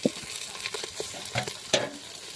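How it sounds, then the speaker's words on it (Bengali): A spatula stirs sizzling food in a pan, making a steady crackle with a quick run of light scraping strokes and a couple of louder scrapes, heard up close. "ঘোরা ঘোরা এই খুন্তিটা ঘোরা"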